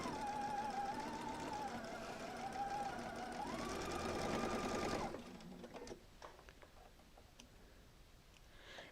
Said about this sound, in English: So going to our sewing machine, I'm going to bring this triangle with me so we can just sew on the next one.